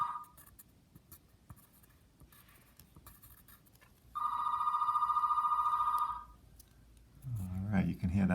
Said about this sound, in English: you can hear that phone ringing